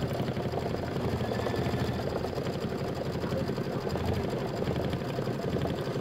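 An embroidery machine runs steadily, stitching the quilting pattern on a Kimberbell Nativity bench pillow, with a continuous rapid mechanical chatter at close range and no voices.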